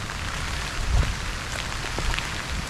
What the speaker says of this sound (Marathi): मस्त वरतून पाऊस